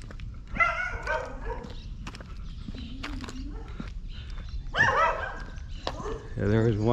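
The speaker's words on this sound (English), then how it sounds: "There's one dog that was loose back there." A loose dog on a neighborhood walk in Panama barks and yips in short bursts, some close and some farther off, mixed with footsteps and brief background voices.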